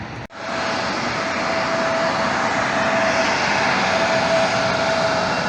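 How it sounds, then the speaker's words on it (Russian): A fixed-wing airplane drones steadily overhead, a continuous broad roar with a faint sustained whine, holding loud and even throughout after a brief dip at the start, with no voices. "Как гулит самолет."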